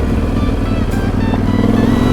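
A motorcycle engine runs loud and close on a gravel backcountry road on the Idaho discovery route, a steady, throaty drone with no speech over it.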